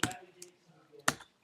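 A few sharp, separate keystrokes on a computer keyboard while a Minecraft server is set up from the command line, with quiet gaps between the clicks.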